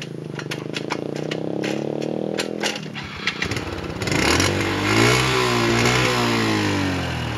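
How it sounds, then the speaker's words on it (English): A small scooter or motorbike engine in a town on Flores, Indonesia, idles with a buzzing drone, then is revved up several times in rising and falling surges, loud and close. "You want to hear him start up? You gotta turn the key on."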